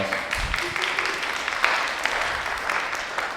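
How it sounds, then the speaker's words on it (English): Audience applause, a steady, dense patter of clapping from a crowd at a panel event, holding evenly for a few seconds. "round of applause."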